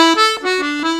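Accordion plays a Celtic triplet ornament, a quick three-note flourish inside a short reedy phrase of sustained tones, close and unaccompanied.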